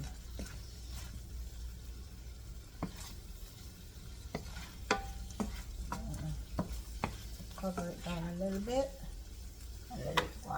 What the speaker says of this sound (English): sweet pepper, and I'm gonna saute in the same pot that I cook the pork in